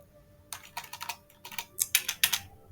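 Keys clattering on a computer keyboard while HTML code is typed, a quick irregular run of crisp, close clicks in a quiet room with no talking.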